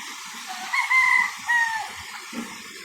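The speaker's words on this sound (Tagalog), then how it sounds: "pakita ko sa inyo ang mga alaga naming pato" Pet ducks by a river give a few short, nasal calls, two clearer squawks standing out over quiet outdoor background, fairly close with no speech.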